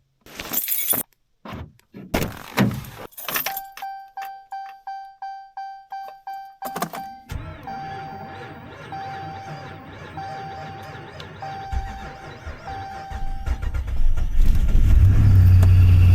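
Pickup truck parked outside a cabin at about minus 39 degrees, starting in extreme cold: sharp clicks and door sounds, then a rhythmic cranking whine with a chime, and finally the engine catching and rumbling to a loud idle.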